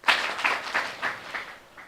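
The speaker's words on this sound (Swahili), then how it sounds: "tuwapigie makofi" An audience at a live ward candidates' debate gives a brief round of clapping, a few sharp bursts that fade quickly over about two seconds, with no talking.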